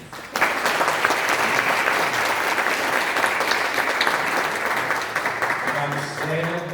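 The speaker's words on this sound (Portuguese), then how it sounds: "Parabéns, uma salva de palmas a vocês." An audience at a workplace lecture on violence and harassment claps in a steady, dense round of applause that lasts several seconds, with a voice rising near the end.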